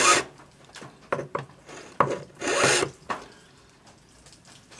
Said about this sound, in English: So just file a long taper